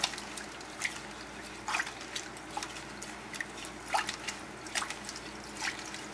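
Water is poured off washed rice, trickling and dripping quietly, with irregular splashes and small liquid bursts scattered over a soft steady background.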